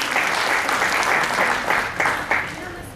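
Loud, steady applause from a Hindi poetry gathering's audience greeting a young student poet, dense clapping throughout with a few sharper bursts near the end.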